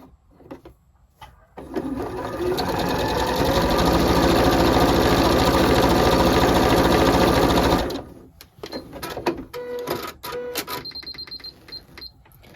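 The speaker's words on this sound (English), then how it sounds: "I'm going to quilt in the opposite direction now, all the way along the top of that" A sewing machine quilts patchwork fabric in one loud, steady run of fast stitching lasting several seconds, with brief quieter bursts of stitching and handling before and after.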